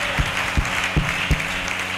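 A church congregation applauds during a sermon, a dense wash of clapping with a few heavier, evenly spaced beats running through it.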